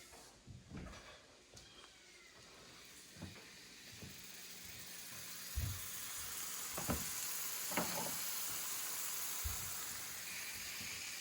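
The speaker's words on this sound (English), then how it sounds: "we're going to put our venison on the electric skillet" Venison sizzles quietly on an electric skillet, a faint steady hiss broken by a few soft utensil taps and knocks, heard close but at low volume with no talking.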